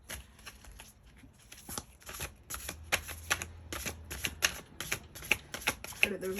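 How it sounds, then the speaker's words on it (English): Tarot cards are shuffled close by in rapid bursts of crisp riffling slaps, a quick irregular patter that grows busier and louder through the second half, with a faint voice in the background. "Keep shuffling."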